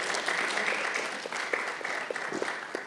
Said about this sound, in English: so give them a bigger round of applause.